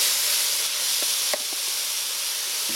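A loud, steady sizzle of shrimp cooking in a closed Ninja Foodi electric grill, a continuous close hiss with a few faint clicks and no voices.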